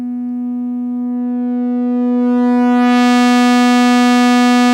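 A steady synth tone runs through a Synthrotek 308 Eurorack distortion module, starting as a clean, pure pitch, then growing louder and brighter as it begins to clip into a harsh, buzzy distorted tone that holds to the end.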